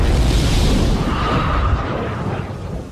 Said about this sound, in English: The exploding chemicals have nowhere to go but out.